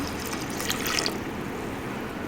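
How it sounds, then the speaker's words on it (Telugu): A steady stream of water, six cups, pours and trickles into a cooking pot for bisi bele bath, a soft continuous liquid rush close by. "నేను ఆరు కప్పుల వాటర్ పోస్తున్నాను"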